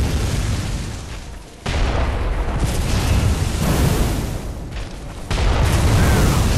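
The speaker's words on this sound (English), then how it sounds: "Oh, it's a hand cannon type thing." Heavy booming blasts from a hand cannon in the video game Bloodborne, with loud, dense explosive bursts that hit abruptly around a boss arena fight and fill the whole clip with rumbling game noise.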